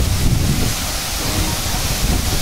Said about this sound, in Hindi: वाटरफॉल है, इसका नाम है गंडाहाती वाटरफॉल